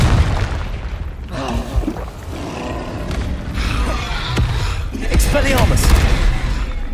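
Confringo explosive spells burst during a Hogwarts Legacy battle, repeated booms and crackling blasts amid continuous combat clatter, with voices speaking over the action.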